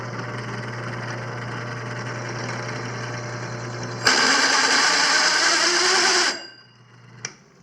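A drill with a 59 mm bit running, a steady motor hum that jumps to a louder grinding whine as it bites into a hard sprocket for a couple of seconds, then winds down.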